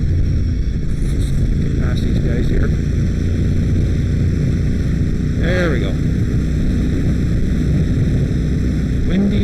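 Steady, heavy wind roar buffets a car during a highway drive toward Port Dover, Ontario, under continuous road noise. Someone talks briefly over it.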